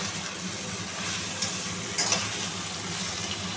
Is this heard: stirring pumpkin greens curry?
yes